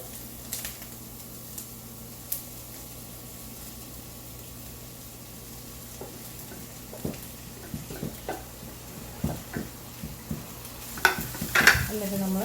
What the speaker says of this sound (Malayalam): എന്നിട്ട് നമ്മൾ ശരിക്കും ഇതിനെ ഒന്ന് ഇളക്കി കൊടുക്കുക